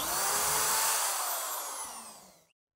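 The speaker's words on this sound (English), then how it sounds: "Pre-drill your holes." A high-pitched power drill whirs loudly, its pitch sliding lower as it winds down and stops after a couple of seconds.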